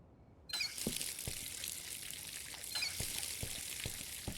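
Water poured onto a plant in the Schedule 1 video game, a steady soft hiss of flowing water starting abruptly after a short silence, with faint clicks throughout.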